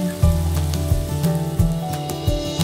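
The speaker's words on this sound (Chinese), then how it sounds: "倒入胡萝卜丁、蒜末、洋葱丁、芹菜丁，煸炒出香味儿，再放入鸡肉、萨拉米跟培根" A loud, close, steady sizzle of carrot, garlic, onion, celery, chicken, salami and bacon stir-frying in olive oil, crackling without pause and with no voices.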